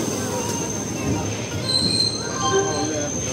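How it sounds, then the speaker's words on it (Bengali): Train pulling into Kamakhya station in Guwahati, Assam, with a continuous rumble of rolling wagons and thin metallic wheel squeals rising above it, heard from on board at close range. "কামাখ্যা স্টেশনে পেয়ে গেছি, নামবো এখন ট্রেন থেকে।"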